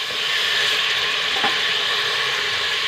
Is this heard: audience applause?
no